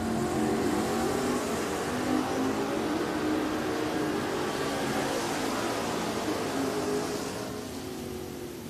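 A 1972 Camaro and a 1967 Dart running a drag race at a dragway, steady loud engine roar filling the whole stretch and easing slightly toward the end, with no talk.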